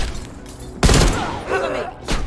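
Sustained gunfire from a firefight in the Call of Duty Black Ops Cold War campaign, a loud burst erupting suddenly and rolling on with scattered shots, over a bed of battle noise.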